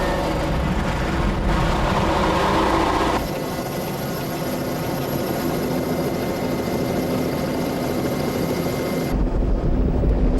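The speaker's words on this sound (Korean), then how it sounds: "소방 헬기가 저수지의 물을 산에 쏟아 부으면서 불길은 급격하게 잦아들었다." A firefighting helicopter's engine drones steadily over a forest fire, loud and unbroken, with the rotor noise shifting in tone partway through and no voices.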